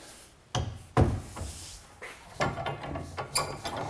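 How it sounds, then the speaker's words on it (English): Clamps are ratcheted and knocked into place on a glued wooden garden gate, producing a series of sharp clacks and metallic clicks at close range, irregular and fairly loud, with no talking. "Now all I got to do is put a couple more clamps on from the opposite side,"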